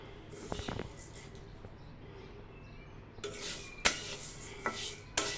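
Chicken skin frying in a pan on low heat, quiet sizzling under scraping and clinking from a spatula stirring it, with irregular scrapes and taps close by.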